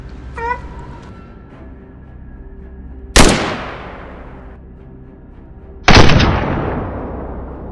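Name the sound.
gunshots at a wild boar hunt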